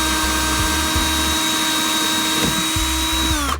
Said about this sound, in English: just kind of let the weight and the saw do the work